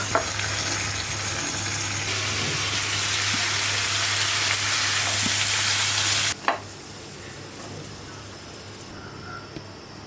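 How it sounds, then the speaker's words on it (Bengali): Spice masala with chili powder, garam masala, ginger and garlic paste fries loudly in a pan, a dense steady sizzle that cuts off sharply partway, leaving a quieter hiss with a clatter. "এখন মশলাটা কষাই নেই"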